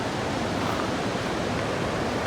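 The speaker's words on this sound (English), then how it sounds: "got some good rapids going down there" River rapids at Sycamore Shoals, running high after rain, give a constant, even roar of rushing water with no breaks.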